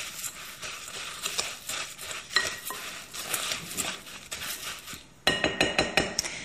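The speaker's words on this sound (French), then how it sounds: "Je vais commencer à mélanger avec une cuillère" A spoon stirring a mixture of muesli, sugar, maple syrup and flour for breakfast cookies, with soft scraping and clinks against a bowl, close and irregular, and a sharper run of clinks near the end.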